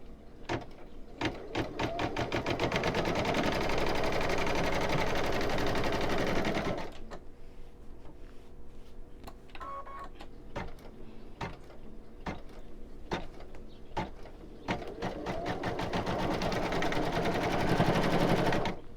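An embroidery machine stitches through thick fleece on a stuffed toy, a rapid steady needle chatter that pauses briefly midway before resuming, loud and close with no talking.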